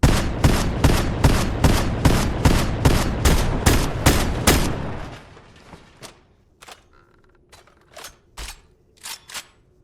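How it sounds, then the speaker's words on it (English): A 12-round drum-magazine shotgun in Fortnite fires about ten rapid, loud, evenly spaced blasts, then a quieter stretch of mechanical reload clicks and clacks, with a few more sharp shots near the end. "So we're going to test out the 12-round drum mag shotgun and its reload speed."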